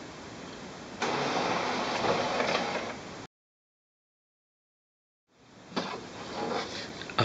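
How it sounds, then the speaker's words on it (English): An HP OfficeJet Pro 8710 inkjet printer initializing gives a steady mechanical whir and rumble for a few seconds, stops completely, then starts again with more clattering motor and carriage noise, close and alone. "To initialize the printer, touch continue."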